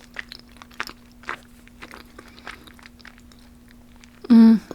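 Someone bites and chews a McMuffin with sausage and eggs, soft wet crunches and mouth sounds scattered through the quiet, close to the microphone, before a sudden loud burst at the end.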